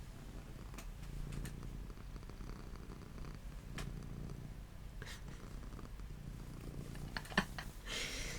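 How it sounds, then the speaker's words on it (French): A cat purrs softly and steadily up close, a low continuous rumble with a few faint rustles and clicks around it. "J'espère que vous entendez son ronronnement"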